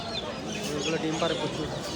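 Chickens cluck at a busy poultry and pigeon market in Mirpur. Short, irregular calls rise out of a dense crowd din, with people talking nearby throughout.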